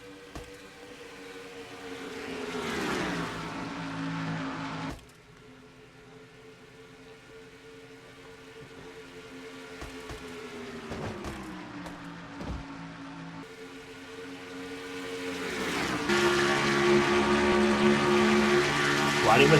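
Stock cars racing at Indianapolis in a racing video game: engines drone and rise and fall in pitch as cars pass, continuous throughout, with a sharp drop near the middle before the roar builds again, louder toward the end.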